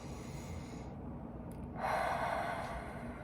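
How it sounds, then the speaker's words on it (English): A single deep breath taken near the microphone in a quiet indoor room, a soft rushing inhale that swells and fades with no talk over it. "We can take a deep breath."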